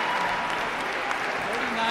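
Applause from spectators at a dog agility world team tryout, a steady broadband clapping wash that holds for the whole moment, with a voice talking over it.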